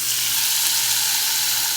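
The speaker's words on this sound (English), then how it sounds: "I'm just gonna put my chicken in and let it do its due real quick." Chicken sizzles and fries in a skillet set a little above medium heat, a loud, steady crackling hiss that runs unbroken with no talking.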